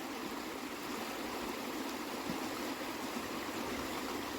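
A river flows nearby outdoors, a steady broadband rush of water that stays even and unbroken from start to finish.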